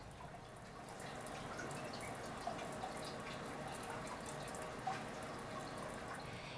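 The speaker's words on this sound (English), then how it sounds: "Flush the skin as quickly as possible with running water until aid is available." Water running from a tap, a faint, steady splashing stream with a few small drips and clinks standing out.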